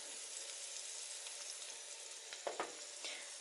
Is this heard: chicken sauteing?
yes